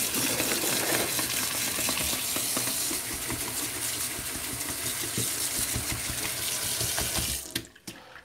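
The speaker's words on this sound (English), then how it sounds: "So I'll give this a wash." A paintbrush is swished and scrubbed in a water bucket while acrylic painting, a steady close sloshing and running-water wash that fills most of the clip before ending in a few sharp knocks.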